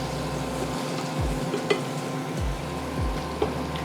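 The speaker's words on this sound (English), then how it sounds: "take a cup of butter, just like that. And our pan is hot, so we're gonna keep the butter moving" Butter melting in a hot pan as it is kept moving, a steady broadband sizzle with low scraping stirs and a few small clinks, no talking.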